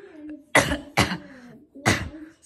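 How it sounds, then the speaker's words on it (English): Three harsh coughs close to the microphone, spaced about half a second apart, with faint background sound between them. "I've got the coughs"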